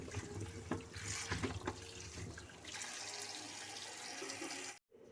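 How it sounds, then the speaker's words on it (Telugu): Amla gooseberries are washed in water, making continuous splashing and sloshing with running-water texture and a few louder swishes, close up before it cuts off abruptly near the end. "వీటిని ఈ విధంగా వాటర్లో కడగాలన్నమాట"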